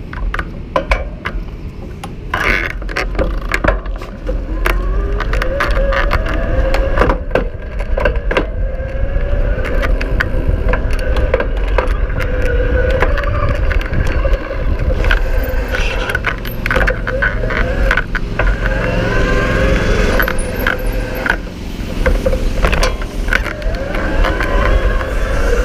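A Schwinn Constance e-bike ridden aggressively at the highest assist level, with steady road and wind rumble, rattling and ticking from the rear sprockets, and clicks as gears shift throughout.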